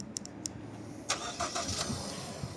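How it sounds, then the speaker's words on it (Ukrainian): A 2015 Ford Edge SEL 4WD with a 242-horsepower engine starts by remote: a few faint clicks, then a sudden crank at about one second that settles into a low, steady idle. "Автомобіль завівся, прогрівається протягом 10 хвилин"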